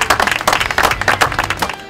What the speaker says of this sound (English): So everybody, give yourself a round of applause.